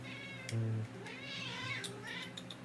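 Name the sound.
pet cat meowing for attention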